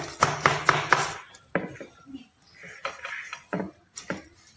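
Guava peel and brown cane sugar are stirred in a container for eco enzyme, giving scraping, clinking knocks of a utensil against the vessel in uneven strokes, with someone talking between.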